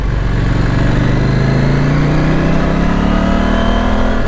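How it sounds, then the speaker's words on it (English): Porsche car accelerating nearby, its engine note climbing steadily and loudly for several seconds, heard from a motorcycle amid constant engine and wind roar. "It's a Porsche."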